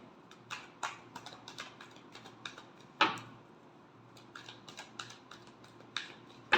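Tarot cards are shuffled in light, papery flicks and riffles that come in irregular bursts, with one sharper slap partway through, quiet and close against a low background hum.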